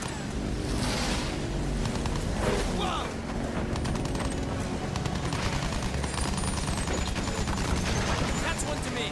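Machine-gun fire in a Battlefield 1 battle against Zeppelin airships, dense continuous rattling over a loud roar of wind and engines, with no break across the stretch.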